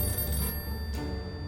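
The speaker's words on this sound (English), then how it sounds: "Why is their phone ringing?" Video game telephone ringing in a loud, continuous electronic trill with a brief break between rings.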